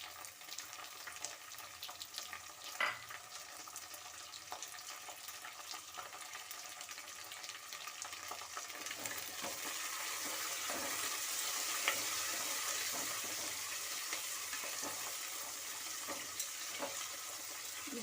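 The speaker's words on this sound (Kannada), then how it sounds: "ಒಂದು ಸ್ವಲ್ಪ ಎಣ್ಣೆಯಲ್ಲಿ ಫ್ರೈ ಆಗಲಿ" Capsicum frying in a little oil for a spinach rice dish makes a steady, fairly quiet sizzle that grows fuller midway, with occasional stirring knocks and scrapes in the pan.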